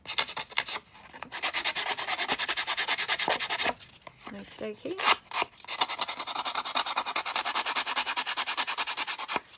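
Paper ephemera edges are rubbed and distressed in rapid, rhythmic scratchy strokes, close and fairly loud, with short pauses between bursts and a brief spoken remark.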